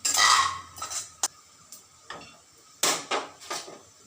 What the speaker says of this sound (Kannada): ಬಿಳಿ ಎಳ್ಳು ಹಾಕಿದ್ದೀನಿ. ಇದನ್ನು ಫಸ್ಟು ಡ್ರೈ ರೋಸ್ಟ್ ಮಾಡೋಣ.